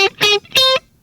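Electric guitar picking a riff: three separate sustained notes with a slightly distorted, effects-processed tone, close and clear, each ringing briefly before a short gap.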